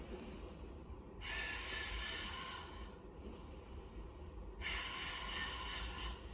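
Two long, slow breaths drawn in during an exercise, each a soft airy rush heard close up over a quiet background, with no talking.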